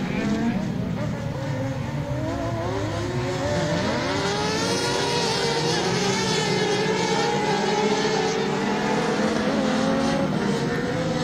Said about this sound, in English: that's because they are powered by motorbike engines